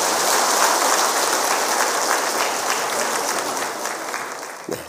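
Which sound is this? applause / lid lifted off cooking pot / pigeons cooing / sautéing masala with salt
applause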